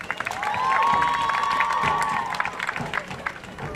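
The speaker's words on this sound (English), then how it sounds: "Big round of applause, please, for Mr. Winskis." Audience applause with cheering at a Fruitport Performing Arts Center live stream, a steady wash of clapping and crowd noise lasting several seconds, with a whistle-like tone partway through.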